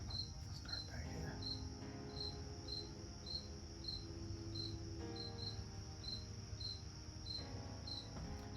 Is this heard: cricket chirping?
yes